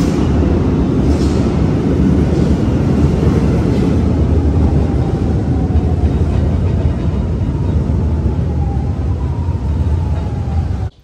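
Lisbon metro train pulling into a station, a loud continuous rumble and rush with a faint rising whine that builds, then cuts off abruptly at the end.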